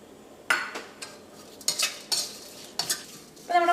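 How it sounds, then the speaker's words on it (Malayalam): Turmeric powder fries in oil in a pan for Kerala tomato theeyal as a spoon stirs it, giving a faint sizzle broken by a series of sharp scraping strokes against the pan, close by. "അപ്പോൾ നമ്മുടെ മഞ്ഞൾപ്പൊടിയും എണ്ണയിൽ കൂടെ നന്നായിട്ട് മുരിഞ്ഞിട്ടുണ്ട്"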